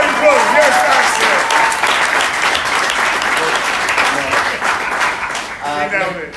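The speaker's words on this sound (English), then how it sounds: "I'll give him a round of applause" A crowd at a Tales of the Cocktail bartending event applauds Nectaly Mendoza with dense, steady clapping that fills the whole stretch, with some voices mixed in.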